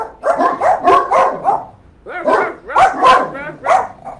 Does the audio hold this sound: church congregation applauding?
no